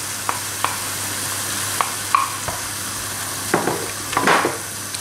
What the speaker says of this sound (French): je vais laisser tout ça cuire dans la sauce soja et dans l'huile de sésame pendant 7 minutes